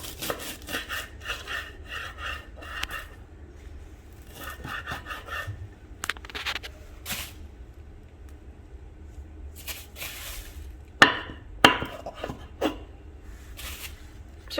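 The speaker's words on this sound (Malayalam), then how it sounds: "അപ്പോൾ നമുക്ക് ആദ്യം ദില്ല് കട്ട് ചെയ്യാം." A knife cuts the roots off a bunch of fresh dill, giving soft rubbing and scraping strokes in short bursts, followed by a few sharper, louder cuts near the end, with no talking.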